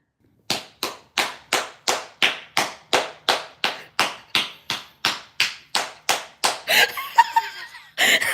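Hands clap in a steady run of about sixteen sharp, evenly spaced claps, loud and close, followed by a burst of laughter and clattering noise at the end.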